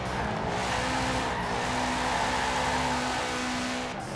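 A car engine drones steadily at high revs in Forza Horizon 4, loud and close with a sustained tonal whine and no voices.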